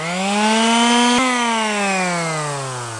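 A power sander whines steadily while smoothing a 3D-printed R2-D2 dome, its pitch rising slightly then sagging as the load changes, loud, close and alone.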